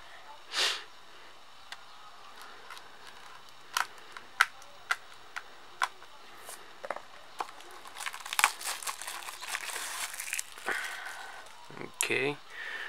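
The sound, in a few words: unwrapping plastic wrap from a WWE Blu-ray case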